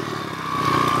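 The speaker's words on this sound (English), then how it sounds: "obviously there's still a little bit of rattling going on" A pit bike on an enduro dirt trail rattles and clatters over a running mid-pitched engine, with loose metallic chatter and a rising engine tone in one short close burst.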